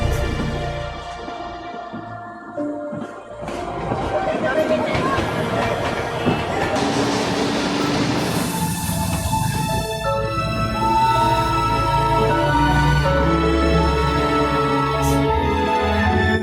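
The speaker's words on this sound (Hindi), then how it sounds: "और इस लूप में घूमकर टॉय ट्रेन इतनी ज्यादा हाइट पर भी आराम से चढ़ जाती है।" Darjeeling toy train climbing the Batasia Loop, with steady rumble and clatter of wheels on rails up close, a loud sustained hiss, and tonal whistle- or horn-like tones, with music or voices mixed in.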